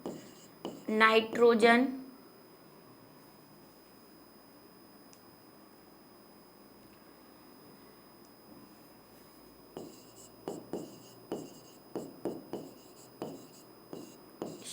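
Chalk or marker writing on a board during a Hindi-language genetics lecture, a run of short scratchy strokes in quick rhythmic succession, close and clear, following a brief spoken word and a long quiet stretch.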